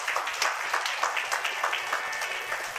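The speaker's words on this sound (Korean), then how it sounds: "다시 한번 큰 박수 부탁드리겠습니다" Audience applause at a youth human rights forum, a fairly quiet but steady patter of many hands clapping in a hall, continuous for a few seconds.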